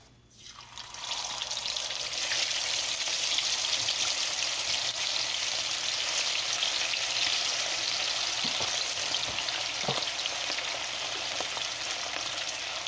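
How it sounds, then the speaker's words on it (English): Red snapper fish frying in a pan over medium-high heat, giving a steady, dense sizzle and crackle that holds close and fairly loud from start to finish with no talking. "So you want to fry your fish for about 5 to 6 minutes on each side."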